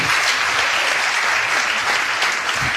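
Audience applause fills a debate hall at the Montana at-large Republican primary debate, a steady, dense wash of clapping that runs loud and unbroken from start to finish.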